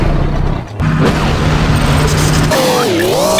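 A V2 launcher fires in the video game APB, delivering loud booming blasts and mechanical clatter, followed by a rising and falling whine near the end.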